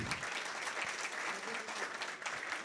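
Applause for students at a career seminar on IT options after 12th class, a fairly soft, even patter of many hands clapping at moderate distance, sustained for a few seconds.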